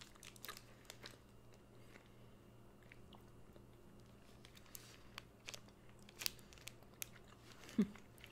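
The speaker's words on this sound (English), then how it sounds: "It's a lot to chew." Soft, close chewing of a chocolate-covered caramel Curly Wurly bar, with faint sticky bites and small crunches scattered over a quiet background and a sharper bite near the end.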